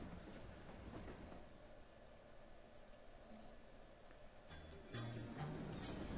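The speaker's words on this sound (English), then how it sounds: "This train will soon make a brief scheduled stop at Riverside Station." A train running in the video game Paper Mario: The Thousand-Year Door, a low rumbling roll with faint rhythmic clatter, fairly quiet and steady, with a few brighter mechanical clanks near the end.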